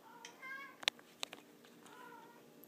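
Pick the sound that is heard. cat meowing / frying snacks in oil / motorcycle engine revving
cat meowing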